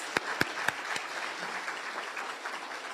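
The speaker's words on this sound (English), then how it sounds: "let's give them a round of applause" Business luncheon audience applauding, a few sharp close claps at first followed by a thin, fairly quiet patter of scattered clapping from a modest crowd.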